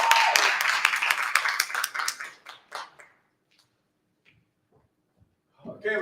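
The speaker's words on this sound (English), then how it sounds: "Let's give him some applause and thumbs up." Audience clapping for a man returning to the stage at a monologue competition, a brisk burst of applause that thins into scattered claps and dies away within three seconds, with a voice starting at the end.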